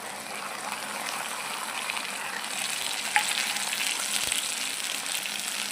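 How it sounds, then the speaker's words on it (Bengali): Mustard paste hits a hot pan and sets off a steady, even sizzle that holds at a moderate level, with one brief clink partway through. "এবারে দিয়ে দিচ্ছি সরষা বাটা।"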